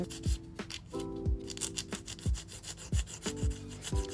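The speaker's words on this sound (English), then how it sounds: "So the next thing to do now is to file." A file rasps rhythmically across gel nails as they are shaped into an almond form: short, dry scraping strokes repeating about twice a second, close and clear with no talking.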